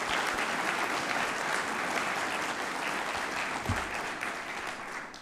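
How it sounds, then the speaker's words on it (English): Sustained audience applause at a State of the City address, broad and steady across the whole stretch, honouring elected officials with no talking over it. "join me in giving our elected officials a round of applause"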